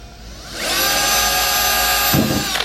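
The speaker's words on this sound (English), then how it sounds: "So I just double checked this one like 5 more times, and now we're gonna drill it." A power drill bores a hole through the body panel of a Dodge Challenger during a wide-body install, its whine rising after a brief start and holding steady and loud for about two seconds, close by and alone.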